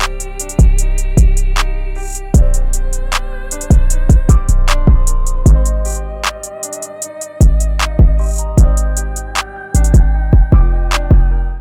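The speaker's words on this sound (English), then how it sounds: "laid this 808 pattern down, which follows the root notes, as well as the kick matching the 808" Melodic FL Studio trap beat with deep 808 bass notes following piano root notes from C down to F, a matching kick, crisp hi-hats and clap over a sustained melody, loud and alone.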